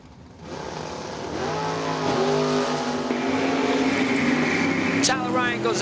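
Drag race cars at a summer bracket race event roar down the strip, engines rising in pitch as they accelerate from a distance, with an announcer's voice over the loudspeakers.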